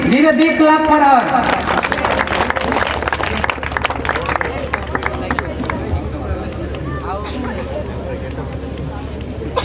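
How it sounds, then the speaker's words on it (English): Audience applause at a school annual day prize distribution, a broad sustained wash of many hands clapping that swells loudly at first and then continues steadily at a lower level, with some crowd murmur and a brief voice at the start. "Give a big clap for her."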